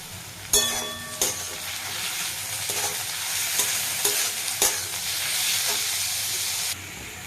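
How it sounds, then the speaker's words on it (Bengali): Garlic paste fries in a pan for mutton curry, a steady loud sizzle and hiss broken by several sharp clanks of a spatula stirring against the pan. "তারপর দেখো রসুনটা ভাজা ভাজা হয়ে গেছে"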